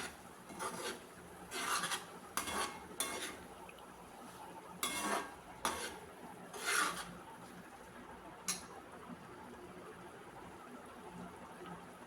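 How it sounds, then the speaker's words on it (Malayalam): A spoon stirs prawn roast in a pan, making repeated short scraping and rasping strokes at an uneven rhythm over a quiet background. "ഇടയ്ക്ക് തുറന്ന് ഇളക്കി കൊടുക്കണേ."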